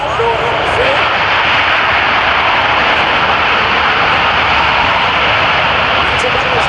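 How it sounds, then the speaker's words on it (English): A military airplane landing at the Dayton Air Show with two sets of reverse thrust, a loud, sustained engine roar that stays close and constant for the whole stretch. "That's about as much noise as that airplane has ever done now."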